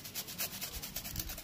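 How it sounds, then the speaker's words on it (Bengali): Fresh cucumber rubbed against a grater for raita, a brisk run of about a dozen rasping strokes in steady rhythm, close and fairly loud, with no voices. "এটা শশা গ্রেট করে, পুরো এরকম গ্রেট করে দেবে"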